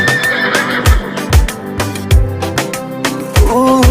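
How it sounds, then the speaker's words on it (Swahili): A horse neighs loudly and repeatedly in close succession, shrill whinnies with a musical backing heard throughout. "farasi."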